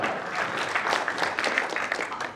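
An audience at a kavi sammelan poetry gathering at the Kishanpur fair claps in a brief, steady burst of applause, moderately loud and crowded.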